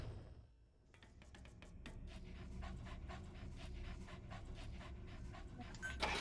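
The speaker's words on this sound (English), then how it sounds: "Dog." A dog in Metal Gear Solid 5 pants steadily in quick, rhythmic breaths close by, over a low background hum.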